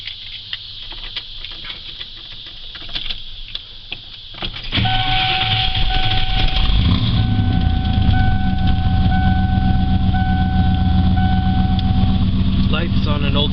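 A truck engine cranks and fires, then settles into a loud, steady rumbling exhaust that keeps running. Before the start, quieter background sound is heard.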